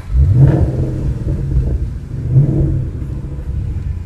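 Ford Mustang GT 5.0 V8 on its stock exhaust, revved twice in quick bursts with deep rumbling surges that settle back to a throaty idle, close and loud, no talking.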